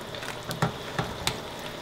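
A full pot of spaghetti sauce with zucchini and mushrooms being stirred, a low bubbling sizzle with a few distinct spoon knocks against the pot, close but fairly quiet.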